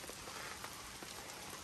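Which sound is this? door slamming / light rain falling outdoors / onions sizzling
light rain falling outdoors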